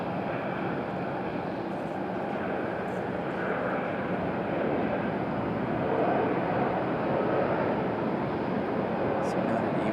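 Steady broadband roar of a United Embraer E175 regional jet at Raleigh-Durham airport, holding continuous and fairly loud across the whole stretch with no clear rise or fade, with a voice talking faintly over it.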